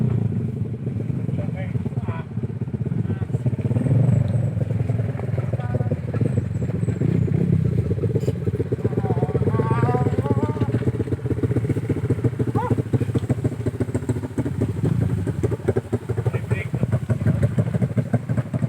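Motorcycle clutch rattling while the bike freewheels, a steady mechanical clatter over engine hum that runs continuously and close, with people talking throughout.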